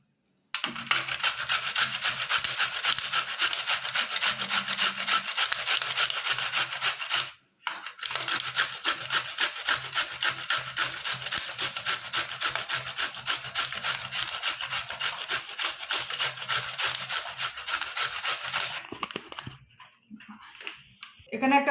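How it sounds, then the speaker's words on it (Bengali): A radish is rubbed against a kitchen grater in fast, steady rasping strokes, close and continuous, with a brief pause partway through and a trailing-off at the end. "এবার একটা গ্রেটারের সাহায্যে আমি এটাকে ঘষে নেব।"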